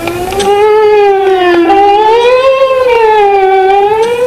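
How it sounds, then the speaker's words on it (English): A vinyl record played off-center, its sustained tone wobbling slowly up and down in pitch with a warped, siren-like swoop, loud and continuous with no voices. "I can also play a record off-center, so that will distort the sound."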